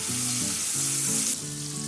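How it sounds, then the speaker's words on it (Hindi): Snake gourd and long beans frying in hot oil for a restaurant-style mixed vegetable sabzi, giving a steady, loud, close sizzle that runs without pause and drops slightly in brightness near the end. "चिचिंडा और बरबटी को फ्राई करने के लिए तेल पे डाल देते हैं।"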